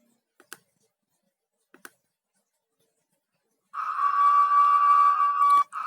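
A software alarm in a bottle-filling SCADA simulation, triggered when a bottle label goes undetected, sounds as a steady electronic tone lasting about two seconds after a few faint clicks.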